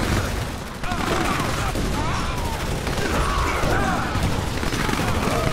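Rapid, dense gunfire in a combat video game, a continuous crackling barrage of shots with mechanical clatter, loud and sustained throughout.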